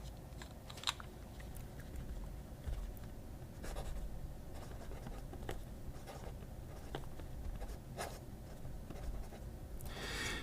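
Fountain pen with a Scribo fine nib scratching across thick paper, a soft continuous writing rustle with faint taps and strokes, close and quiet, no voices.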